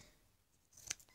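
Scissors snip through a strip of masking tape during a DIY craft, a single faint close cut heard alone in a quiet room.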